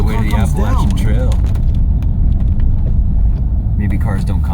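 A Jeep rumbling and jolting along a rough rally-like gravel trail toward the Appalachian Trail, a loud, constant low engine and road roar close by, with people talking over it.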